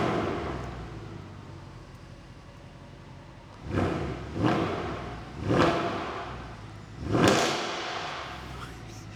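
A warm Mercedes C63 AMG engine revs hard four times in quick succession, each sharp rise in pitch falling back to a low idle, fairly close and loud.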